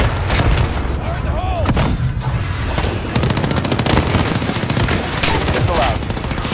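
Gunfire in Call of Duty Modern Warfare (2019), embassy mission: dense machine-gun bursts and booming shots fire rapidly and loudly, with rattling volleys layered over a continuous battle din.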